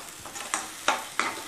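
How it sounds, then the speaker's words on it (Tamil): Urad dal sizzles in a hot pan for thuvayal while a spatula scrapes and stirs in three quick, separate strokes, close and fairly soft. "நல்லா வதக்கிடணும்"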